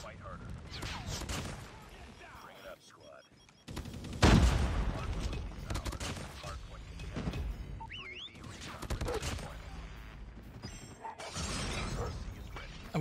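Rapid gunfire from a turret build in a shooter video game, dense bursts and crackling shatter effects layered with a constant game soundtrack, while a player talks over the action.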